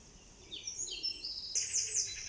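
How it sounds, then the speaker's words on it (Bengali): Birds chirp in a backyard garden planted with flowers, several bright high tweets and short trills in quick succession, faint and fairly distant over quiet background. "আপনারা কি পাখির কিচিরমিচির শুনতে পাচ্ছেন?"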